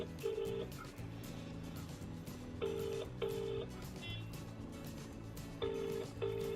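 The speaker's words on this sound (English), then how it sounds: "can hear the phone ringing downstairs." A telephone rings in a repeating double-ring pattern, each pair of bright electronic trills separated by pauses of a few seconds, over a low background hum.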